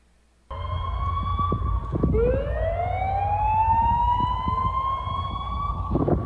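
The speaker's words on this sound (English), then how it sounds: "bring it into the mix to hear the sirens that were going on today" Tsunami warning sirens sounding after an Aleutian earthquake, a wailing tone rising and holding over several seconds, loud and outdoors with traffic rumble beneath.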